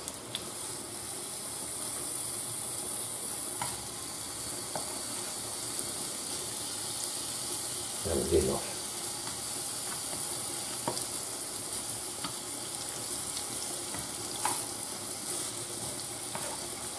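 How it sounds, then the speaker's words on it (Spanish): Lamb chops sizzling steadily in a hot pan, a continuous close frying hiss with occasional faint clicks and one brief louder clatter midway, no talking. "Y ahora vamos a sofreír, mira,"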